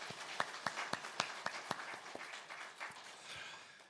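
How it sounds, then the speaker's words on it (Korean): A church congregation claps, with distinct claps at first that blur into a faint, scattered round of applause in a large room. "다 함께 박수로 우리 세 가족들을 격려하고 칭찬했으면 좋겠습니다"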